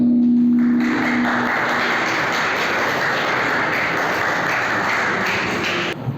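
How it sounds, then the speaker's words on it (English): A seminar audience claps steadily for several seconds, a dense wash of applause that starts suddenly and stops just as abruptly. "Let's give him a round of applause."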